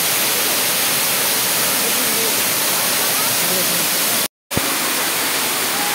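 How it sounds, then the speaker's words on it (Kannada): Sirimane waterfall in Karnataka, a year-round falls, gives a loud constant broadband roar of rushing water that fills the whole clip, broken only by a momentary dropout near the end. "ಸಿರಿಮನೆ ಫಾಲ್ಸ್ 365 ಡೇಸ್ ರನ್ನಿಂಗ್ ಇರುತ್ತೆ"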